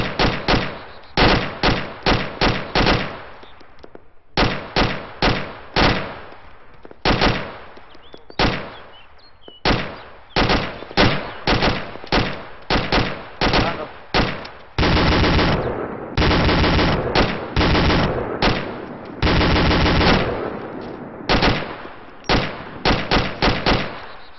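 Video game gunfire aimed at the player comes as loud, close bursts of rapid automatic shots. Short volleys and longer sustained streams repeat with brief gaps, and no voices are heard.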